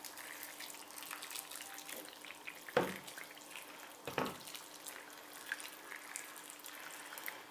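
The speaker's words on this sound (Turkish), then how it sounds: "Makarnaların üzerine basacak kadar kaynar su ekliyorum." Boiling water is poured over pasta in a baking dish, a faint steady stream with a couple of sharper splashes as it lands, alone against quiet kitchen background.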